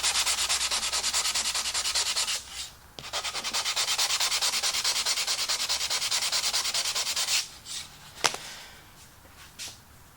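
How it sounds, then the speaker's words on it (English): Light sanding by hand over a wood chip glued back down to hide a nail, a steady close scratchy rubbing in quick strokes for several seconds, then a few brief pauses and scattered short scrapes near the end. "give it a little light sanding."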